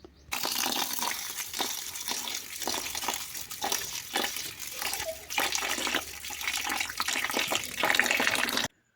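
Basmati rice is swished and rinsed by hand in a vessel of water, a close, continuous watery sloshing with rhythmic surges, no talk over it.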